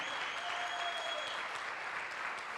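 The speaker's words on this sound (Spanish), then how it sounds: "Con un aplauso." Church congregation applauding together to welcome visitors during a service, a steady dense clapping held for the whole span at moderate distance, with no talk over it.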